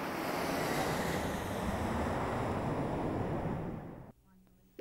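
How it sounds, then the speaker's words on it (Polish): An airplane flying overhead makes a steady, loud, broad roar for about four seconds, then it suddenly drops away to quiet. "Tak, to samolot."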